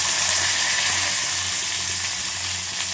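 Spices tempering in hot oil with whole tomatoes just added for a curry-leaf paneer dish, a loud steady sizzle and hiss filling the whole moment, close and unbroken.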